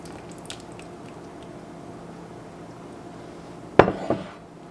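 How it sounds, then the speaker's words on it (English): Buttermilk is poured into a bowl of dry cornbread ingredients, a soft quiet background followed by a clinking thump of a utensil or container against the bowl and a short splat near the end. "Now we're going to add our buttermilk into our dry ingredients."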